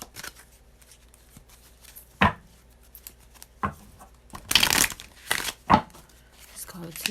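Tarot cards being shuffled by hand nearby, heard as a few short papery riffling bursts spread across several seconds, the densest cluster near the end, between quieter stretches of room sound.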